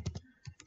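Keys clack on a computer keyboard as a Kafka command is typed, a short burst of several quick close taps alone in a quiet room.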